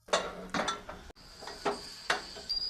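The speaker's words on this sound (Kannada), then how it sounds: "ಕುಕ್ಕರ್ ಮುಚ್ಚಳ ಹಾಕ್ತಾ ಇದ್ದೀನಿ" A pressure cooker lid is fitted on a pot of boiling vegetables for avarekalu sambar, giving a run of separate metallic clinks and knocks, quiet and close.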